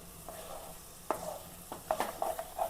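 Leftover chicken chukka curry reheating in a pan, with a soft steady sizzle and a run of spoon-stirring scrapes that grow more frequent toward the end, close by and with no voices.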